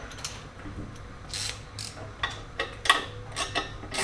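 A ratchet clicks in quick irregular bursts while bolts are tightened down on a Harley oil pan, close and fairly crisp, with short pauses between strokes and a low hum underneath.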